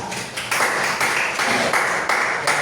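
A high school history class in unison rhythmic clapping for a student group, loud and close, with strong evenly spaced claps about every half second, no talk over them.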